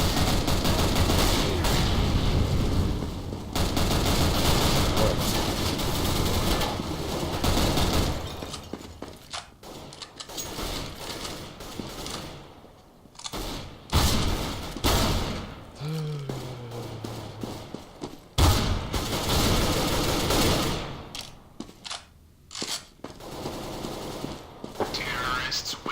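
Gunfire in Counter-Strike: Global Offensive, dense bursts of automatic and single shots crackling through a busy match mix, with sparser shots and gaps later and a voice talking over parts of it.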